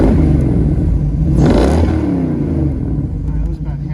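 A 1957 Corvette engine revs at about half throttle, a loud, close, steady roar that swells briefly in the middle and then holds before easing slightly at the end.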